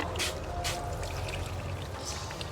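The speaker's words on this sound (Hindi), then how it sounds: "ये देखिए मटन को धोया जा रहा है" Water pours and splashes over mutton pieces being washed in a hotel kitchen, a steady near rush with a couple of brighter sloshes, over low kitchen background noise.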